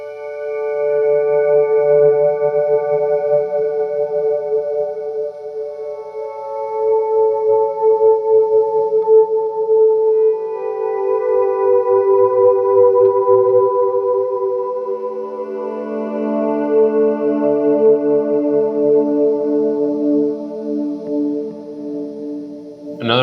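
Electric guitar chord swells played through a chord progression, each chord fading in softly and sustaining with a smooth, pad-like tone, several overlapping changes at steady moderate loudness and no talk.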